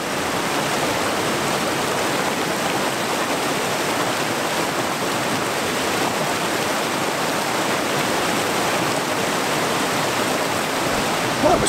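A waterfall roars in a steady broadband rush, loud and close throughout, with no other sounds breaking through the constant wash of falling water.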